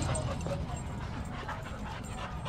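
Dog whimpering and yipping inside a pub, with several short high-pitched whines over a busy room murmur and faint voices in the background.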